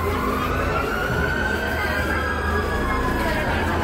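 Fire truck sirens wail continuously as firefighters arrive at a large blaze in Quiapo, Manila, their rising tones held over dense, loud street and crowd noise with traffic rumble.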